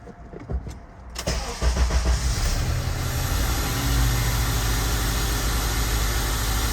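A Honda Element engine with a cylinder 1 misfire cranks, catches and settles into a rough, uneven idle, heard up close and steady after the start.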